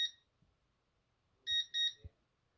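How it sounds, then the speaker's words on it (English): Two quick electronic beeps from a Concord 4 security system keypad arming, close and clear, followed by a soft knock in an otherwise quiet room. "During the last 10 seconds, it'll start to beep rapidly to let you know it's about to arm."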